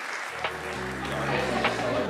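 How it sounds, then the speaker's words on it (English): Audience applause at a fringe festival program launch, clapping that builds quickly and carries on under a continuous low tonal hum. "Come on, you really need to give them a clap for there."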